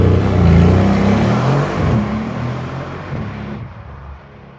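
A Mercedes GLC Brabus 600 SUV launches hard, its engine roaring loud and close in a dense, sustained blast that eases off toward the end, with no talking.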